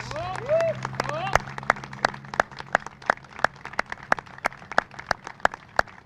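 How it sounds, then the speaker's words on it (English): A small outdoor crowd at a flagpole dedication for a Pfc. outside a library claps for veterans, sparse individual sharp claps spread out and fairly close, with a voice and other noise at the start. "Can we give all these heroes a round of applause?"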